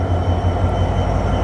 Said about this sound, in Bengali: আমাদের ট্রেন প্রায় ১৯ মিনিটের একটি বিলম্ব নিয়ে কিন্তু এই যশোরে প্রবেশ করছে।